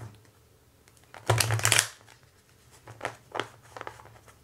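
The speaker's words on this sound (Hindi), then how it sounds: "शफल कर लेते हैं पहले।" Tarot cards are shuffled by hand for a March 2021 Virgo love reading, a dense riffling burst near the start followed by a few softer, scattered card shuffles and taps close to the mic.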